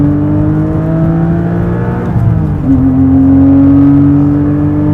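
A loud, close engine drones at a steady pitch, dips briefly as the gear changes, then climbs back into a strong sustained rev; no voices.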